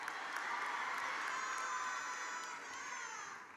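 An audience at a graduation ceremony keeps clapping in a dense, continuous wash that eases slightly toward the end, with a thin high call rising above it.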